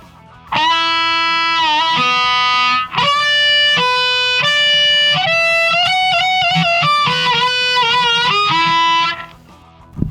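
A solo played on harmonica, distorted and loud, with sustained wailing notes, sharp attacks and bends across about nine seconds, bracketed by brief quiet.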